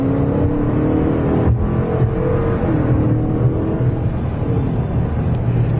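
2015 Dodge Challenger R/T accelerating hard on an interstate, a continuous engine drone and road roar from inside the car, with a brief swell partway through and steady loudness throughout.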